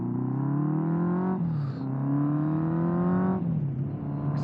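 A 1979 Honda CB750F Super Sport with a straight-through exhaust accelerating through the gears, its loud raspy engine note rising in pitch, dropping briefly at two shifts, then climbing again, heard close throughout without talk.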